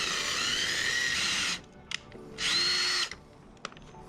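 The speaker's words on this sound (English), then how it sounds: "This requires drilling a small 3/16 hole into the bumper" Power drill boring a small 3/16 hole into a C8 Corvette bumper through a pre-drilled hole in a composite canard, two loud high-pitched whirring bursts with a short pause and brief blips between, no talking.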